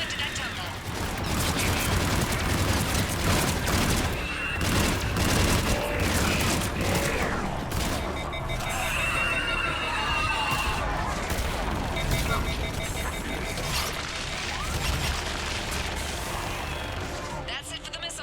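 Gunfire from a gunship in the Mass Effect 3 video game, a dense, sustained barrage of rapid shots rattling continuously amid battle noise and mechanical whirring, with some speech over it.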